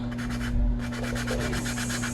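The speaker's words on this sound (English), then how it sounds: "So again, we're just sanding a little bit of it away." A tumbler is sanded by hand, giving a steady, close, gritty rubbing with repeated back-and-forth strokes over a constant low electrical hum.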